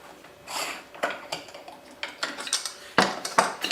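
Vegetable juice pulp being mixed in a container, with irregular clinks and scraping knocks of a utensil against the vessel, close and fairly loud, with no talking.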